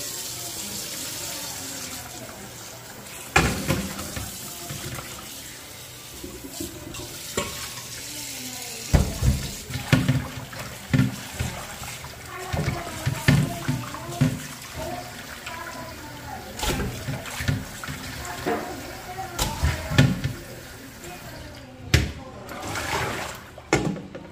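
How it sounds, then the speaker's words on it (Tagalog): Beef internal parts are rinsed under a running tap, with water splashing and pouring in uneven bursts as the meat is handled, loud and close, without any talk. "Hugasan natin ulit."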